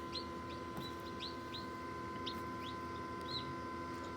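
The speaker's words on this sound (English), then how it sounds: "The one in the other incubator's chirping a lot." Newly hatched chicks peep in a series of faint, high, rising chirps inside an incubator, roughly two to three per second, over a steady electrical hum from the machine.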